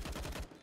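Gunfire in a multiplayer shooter video game near a tunnel: rapid, loud bursts of automatic shots in quick succession for about half a second, then a quieter tail.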